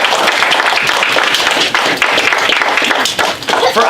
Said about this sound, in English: Everybody give a round of applause for Hermes.